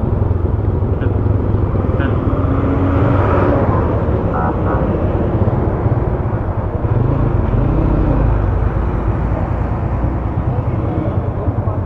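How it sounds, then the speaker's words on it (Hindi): A Honda CB150F motorcycle runs along a road, giving a loud, continuous engine drone mixed with wind and road rumble that holds steady throughout, with no speech over it. "बाइक चल चुकी है"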